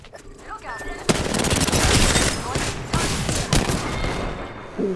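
Rapid automatic gunfire in the battle royale game Apex Legends, a dense, loud fusillade of close shots in bursts with brief pauses, with a voice briefly heard.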